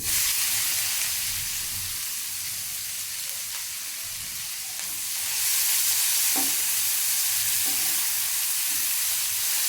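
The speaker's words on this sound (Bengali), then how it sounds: "এখন পেঁয়াজ দিলাম" Onions frying in hot oil with garlic and green chillies for a chapila fish curry, a continuous close hissing sizzle that swells louder halfway through, with a few soft stirring knocks.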